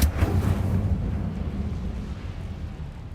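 Incendio fire spell cast in Hogwarts Legacy, a burst of roaring, rumbling fire that flares loud at the start and then settles into a steady low crackle and whoosh.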